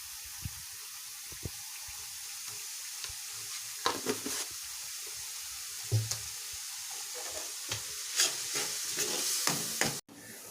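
Mint paste for pudina rice cooking in a pan with salt, giving a continuous close sizzle with intermittent scraping and stirring clicks, alone and without talking, ending in a sudden brief cut.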